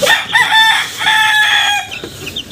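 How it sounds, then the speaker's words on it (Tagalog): Chicks and free-range chickens call up close, with a short burst of high, clucking, peeping cries overlapping one another. No voices are present. "So ito na yung mga sisiw pala nila."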